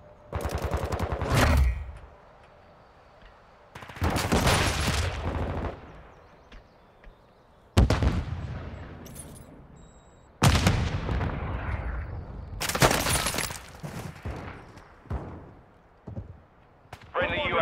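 Video game gunfire comes in several loud, separate bursts of rapid shots with quieter gaps between them, while game voices call out over the shooting.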